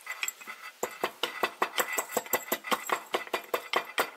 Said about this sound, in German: Jetzt mal die Pfefferkörner. Die tun wir dann ein bisschen zerstoßen mit dem Caipirinha-Stampfer.